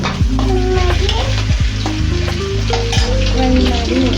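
Broccoli fries in oil in a pan and is stirred, a loud, close, steady sizzle broken by repeated scraping strokes of the spoon against the pan.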